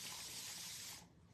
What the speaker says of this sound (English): I am going to clean it by spraying some water